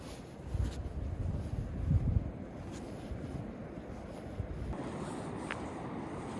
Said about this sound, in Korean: 파도가 너무 예쁘다.